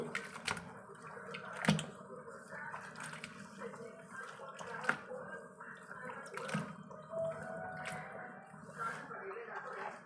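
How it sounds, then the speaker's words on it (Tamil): Goat or animal intestines are washed with rice and water, heard as irregular sloshing, splashing and dripping with occasional sharp plops, near and fairly quiet, with a voice talking over it. "குடல் கழுவு அரிசி கழுவணும் தண்ணி கழுவணும்."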